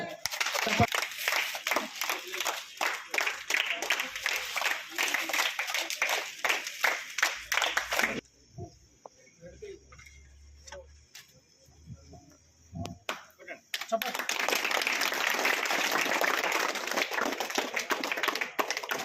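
Steady applause from a crowd fills the first stretch, fades into a quieter gap with scattered sounds, then a second burst of clapping follows.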